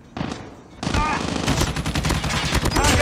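Kreuger LK24 fire in Call of Duty Mobile: a short first burst, a brief pause, then a long, loud, dense stream of rapid automatic shots with faint clinking casings.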